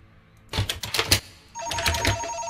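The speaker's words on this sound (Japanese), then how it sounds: "電話だ。" Telephone ringing in the horror video game Unfollow: a bright electronic ring comes in two bursts with a short gap between them, fairly quiet and heard alone without talk.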